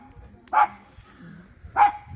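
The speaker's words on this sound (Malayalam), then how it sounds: "പട്ടി എന്തൊരു കരയായിരുന്നു." A dog barks twice, about a second apart. The two short, fairly loud barks rise over a quiet, low background hum, with no voices.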